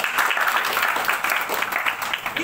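Steady crowd applause from an audience at a business plan seminar, a dense wash of clapping that carries through the whole short stretch at a fairly loud level.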